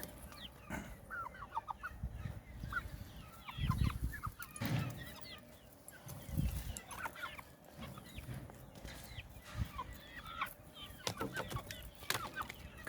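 Aseel (Hint) chickens cluck and a rooster calls amid a busy yard of fowl, several birds near and far, with a faint background hum and no talking.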